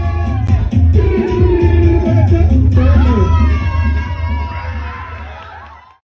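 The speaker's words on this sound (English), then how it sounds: "The crowd was definitely getting to fever pitch." An excited crowd at a Rio samba night cheers and shouts loudly, with high whoops and children's voices rising over a dense roar of many people, swelling after a few seconds and then fading out.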